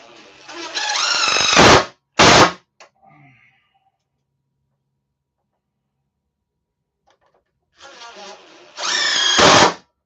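A power drill drives number 8 construction screws into wood in two loud whirring bursts separated by several seconds of silence, the second burst rising in pitch as the screw seats.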